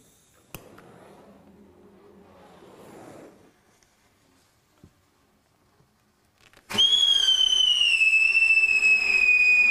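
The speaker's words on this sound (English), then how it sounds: "that's the pyrotechnic whistle" After quiet rustling and a few clicks, a loud, piercing whistle ignites and burns steadily, its pitch slowly falling over several seconds.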